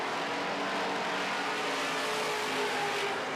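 Midwest Modified race cars roar around a dirt oval as a dense, continuous engine drone, loud and steady with no break, the pack passing close with no voices heard.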